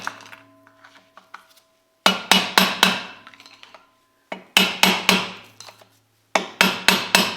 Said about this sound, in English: go back to hitting this thing with the mallet and the screwdriver